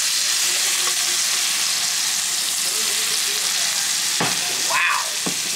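Salmon fries skin-side down in a pan with a constant loud sizzle, broken near the end by a couple of short clanks and a scrape.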